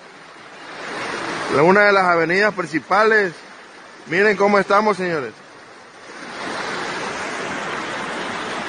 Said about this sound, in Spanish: Este es el agua en Jalapa,